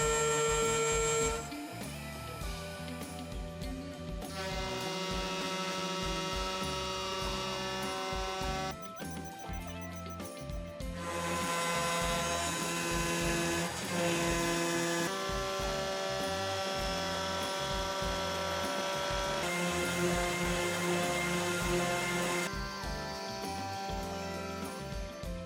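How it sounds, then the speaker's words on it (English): A DIY CNC machine with an overpowered, rigid spindle machines metal parts, giving a steady loud whine that shifts pitch and intensity in several stretches between cuts. "Metal machining is where my DIY CNC pulls ahead completely."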